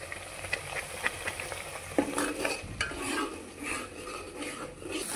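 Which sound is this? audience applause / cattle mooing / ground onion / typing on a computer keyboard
ground onion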